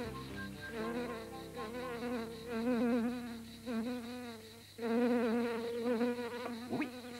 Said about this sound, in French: il doit y avoir un terrier de guêpes par ici